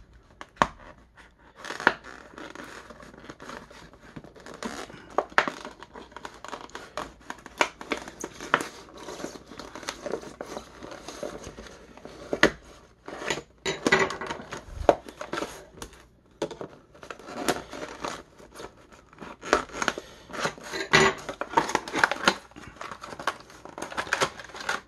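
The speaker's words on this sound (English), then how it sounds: "we'll go ahead and get this bubble cut, shall we?" Scissors cutting open the plastic bubble of a Star Wars action figure package: irregular, close snips, crinkles and scratches of stiff plastic, soft and intermittent over a long stretch.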